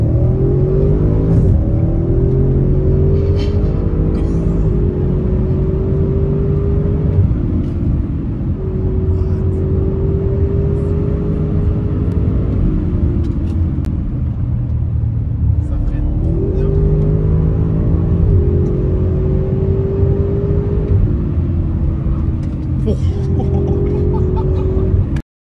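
A tuned Audi RS6-R ABT engine drones loudly and steadily from inside the car, pitch climbing and dropping through several gear changes across the whole stretch.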